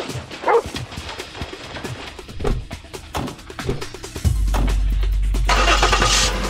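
Jeep engine cranking and catching after a dog barks a few times nearby, then settling into a loud steady idle rumble that holds to the end.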